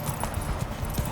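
Hoofbeats of a horse in the video game The Witcher 3: Wild Hunt, a quick run of close, fairly loud clip-clop thuds in uneven rhythm as the mount sets off at speed.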